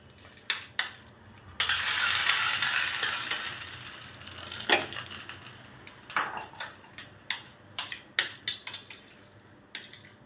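A hot tempering of ginger and green chili is poured into yogurt and stirred in: a brief loud sizzling hiss, then a run of sharp spoon clinks and scrapes against the bowl, close up with no talking.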